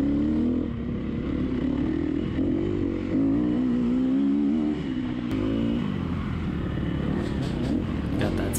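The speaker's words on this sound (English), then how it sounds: "Got that sound of the two-stroke behind me, putting pressure on me" Two-stroke dirt bike engine buzzing and revving close behind during a harescramble race in Winterset, Iowa, a steady loud drone mixed with the rider's own motorcycle engine throughout.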